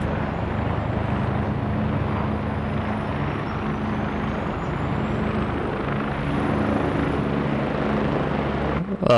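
Helicopter in the military video game Squad running its engine and rotor as it takes off from a helipad, a loud steady drone throughout the clip with no talking.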